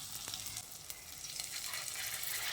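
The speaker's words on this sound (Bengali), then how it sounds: "তেল খুব ভালোভাবে গরম করে নিয়ে এবার আমি যে ব্যাটারটা তৈরি করে রেখেছিলাম তার থেকে অল্প অল্প করে এইভাবে গরম তেলের মধ্যে ছেড়ে দিচ্ছি।" Egg pakora batter is dropped spoon by spoon into hot oil and fries with a soft, steady hissing sizzle. A few faint pops are heard. The sound is quiet and close, with no talking.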